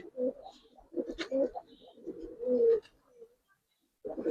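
A pigeon coos close by in a few soft, throaty bursts, pausing briefly before starting again near the end.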